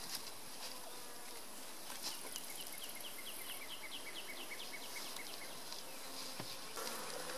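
Honeybees buzz steadily around a beehive box, a dense, continuous drone close to the mic with several sharper passes of individual bees darting by; no talking.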